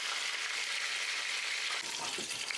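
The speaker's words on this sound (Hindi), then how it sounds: "2 मिनट के लिए और हमें बैंगन को फ्राई करना है" Brinjal pieces frying in a pan, a loud continuous close-up sizzle that stays dense throughout with a slight stir near the end.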